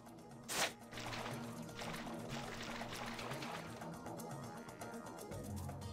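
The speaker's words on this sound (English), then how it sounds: "The sound of water can be heard from the other side." Water rushing behind a closed door in a video game, a steady muffled pour and trickle after a brief knock, continuous and fairly faint throughout.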